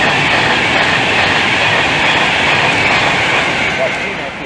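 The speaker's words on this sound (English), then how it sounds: "That's 39844 on the London to Manchester service." Virgin train 39844 on the London to Manchester service rushes past at Milton Keynes Central on the West Coast Main Line, a loud, sustained roar of wheels and rolling stock that fades slightly at the end.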